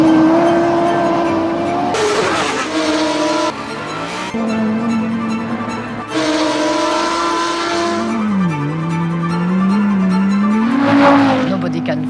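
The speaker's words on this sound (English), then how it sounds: "of course it's the noise of the quattro" An Audi quattro rally car at full throttle, its engine note climbing and falling through gear changes with tire noise mixed in, loud and close for about twelve seconds.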